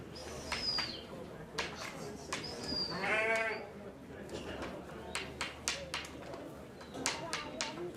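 At a sheep sale, sheep bleat from a pen, with one clear drawn-out bleat in the middle amid a busy backdrop of clicks, knocks and murmuring voices.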